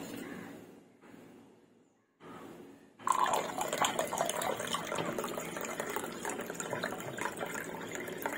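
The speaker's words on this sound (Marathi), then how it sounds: "त्यामध्ये बघा आपण हे आता थंड पाणी घालून घेऊया" Cold water pours steadily into a glass for a raw mango drink, a continuous splashing rush after a few seconds of quieter shuffling and clinks, fairly close and loud.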